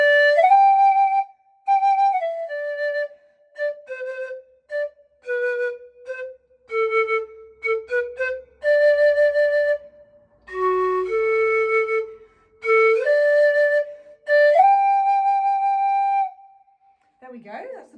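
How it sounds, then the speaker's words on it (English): Panpipes are blown in a series of breathy, whistle-like notes, each tone short and separated by brief pauses, forming a simple melody played close and clear with no other sound. "that's the panpipes"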